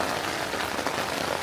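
Steady rain pattering on a Hilleberg Soulo tent during a mountain thunderstorm, a dense, even hiss of drops heard up close and moderately quiet, with no voices.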